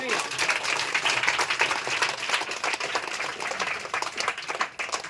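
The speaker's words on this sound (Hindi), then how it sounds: "प्रभु यीशु की जोरदार ताली बजाने करवा लो" Congregation clapping loudly at a Hindi-language church sermon, a dense rapid stretch of applause that holds steady, dips briefly near the end, then picks up again.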